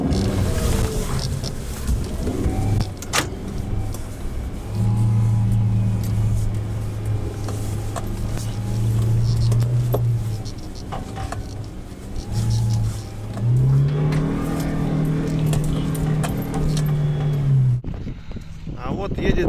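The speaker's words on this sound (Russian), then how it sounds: "А вот едет стоковый джимник." A stock Suzuki Jimny driving through spring mud, its engine droning and revving loudly with a sustained low hum that rises in pitch toward the end, then cuts off abruptly.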